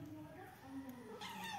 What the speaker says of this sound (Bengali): বিড়াল ছানা